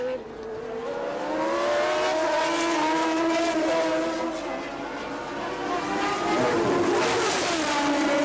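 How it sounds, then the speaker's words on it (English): 1981 Formula 1 race cars at the Argentine Grand Prix, including a Brabham overtaking, roar past with loud rising and falling engine whines. A commentator talks over the engine noise. "So Piquet passed yet another driver"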